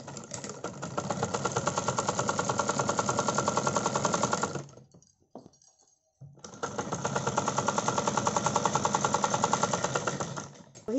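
A sewing machine stitches a potli-button neck design, running in a fast, steady mechanical chatter for several seconds, pausing briefly with a few soft clicks, then running again at the same even pace.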